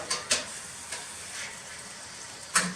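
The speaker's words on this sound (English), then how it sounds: "Be careful because this is oil, it is hot, but we want to make sure that we sear both sides." Pork sears in hot oil with a soft, continuous sizzle, broken by a few sharp pops and spatters, the loudest one near the end.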